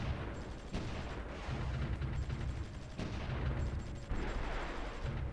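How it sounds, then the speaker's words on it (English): Video game artillery bombardment, dense rumbling blasts and booms rolling continuously with several sharper impacts, heavy and low, fairly quiet overall with no voices. "they should be able to bombard some of those units down there"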